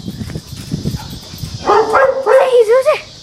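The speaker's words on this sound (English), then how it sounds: "this dog is barking" A pet dog left in a house with the owners locked out whines and yips in rising, wavering cries close by, after several people talk over one another.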